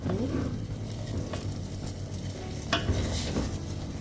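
Aloe gel being stirred together with rosemary in a pot over a flame, a steady close scraping and swirling with faint sizzling and light clinks of utensil against metal throughout.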